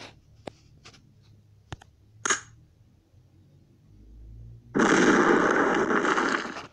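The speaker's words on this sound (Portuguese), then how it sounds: "Tentar com granada, ver se resolve." A grenade goes off in a dinosaur-hunting video game as one loud, sustained burst of blast noise. A few sharp clicks and taps come just before it.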